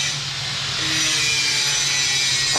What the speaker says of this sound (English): There's Bill grinding.